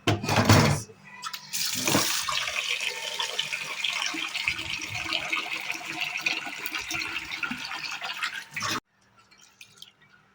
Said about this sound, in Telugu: వాటర్ పోసి అయితే కడుగుతున్నాను